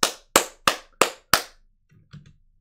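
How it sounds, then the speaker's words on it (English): Five sharp, evenly spaced claps ring out in quick succession, loud and close, followed by a short faint rustle and a couple of soft knocks in a game stream setting. "Let's get the claps!"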